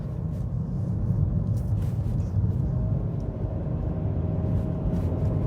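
Acura Integra with a CVT cruising along a narrow Pacific Coast canyon road, its engine a steady low drone with no gear shifts, heard from inside the cabin with road and wind noise throughout.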